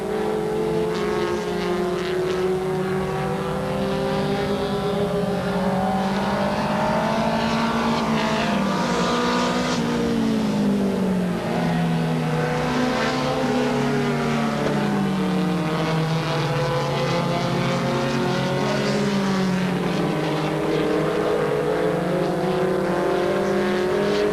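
Race cars, Volkswagens and big four-cylinder Fords, lapping an oval track at Bryar Motorsports Park, a continuous loud engine roar with overlapping rising and falling pitches as several cars circle and pass.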